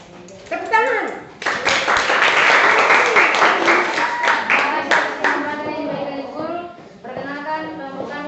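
Seventh-grade students in a classroom group activity clap their hands together in a loud, brisk burst lasting several seconds, with children's voices talking and chanting before and after.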